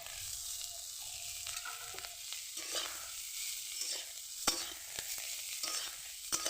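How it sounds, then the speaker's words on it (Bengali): Cauliflower pieces are stirred with salt and turmeric in a frying pan, a faint continuous sizzle broken by scraping strokes and occasional sharper clinks of the utensil against the pan. "নাড়িয়ে ছড়িয়ে দেবো ভালো করে"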